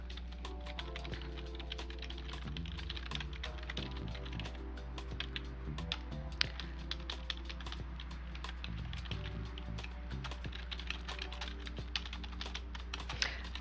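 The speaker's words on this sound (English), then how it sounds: "I will type the URL where you can submit your questions right here." A URL typed on a computer keyboard, quick rapid keystrokes in an unbroken run over a low steady hum, no talking.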